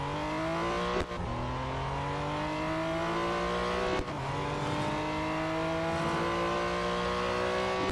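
Race car engine in Real Racing 3, running an autocross at the Dubai Grand Prix circuit, drones steadily at high revs with rising pitch. Two sharp gear-change dips break the whine, and there is no talk.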